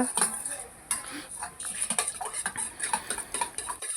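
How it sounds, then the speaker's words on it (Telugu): Eggs are beaten with salt and chili powder in a bowl, producing rapid, continuous light clinking and ticking of a utensil against the dish, close and fairly soft. "మనం వేసిన ఉప్పు కారము అంతా గుడ్లకు పట్టేలా కలుపుకోవాలంతా"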